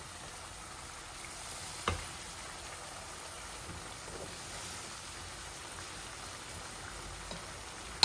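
Ground coriander, cumin and chili, loosened with a little water, fry in a pan with a soft, steady hiss throughout and a couple of light knocks. No one speaks.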